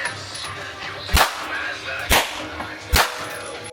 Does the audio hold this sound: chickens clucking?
no